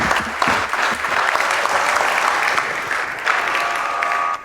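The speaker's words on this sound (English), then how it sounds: "give a warm round of applause for those two guys" A conference audience gives a warm round of applause for two speakers before their talk on SAP security: loud, full crowd clapping that holds steady, then cuts off abruptly at the end.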